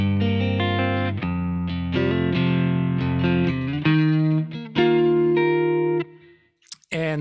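An electric guitar played through a Kemper Profiler with a short small-room reverb rings out in sustained, distorted chords and notes for several seconds, then cuts to near silence with a brief final flurry, with no talking.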